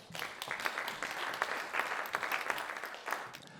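Steady audience applause at an awards ceremony honouring a school teacher, dense clapping from many hands for several seconds with no voices over it.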